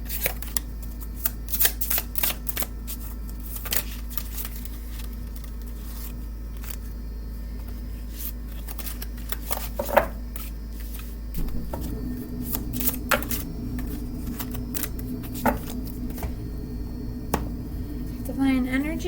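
A deck of mediumship oracle cards is shuffled by hand, giving repeated crisp riffling and flicking bursts up close, with a voice speaking at times over a steady low hum.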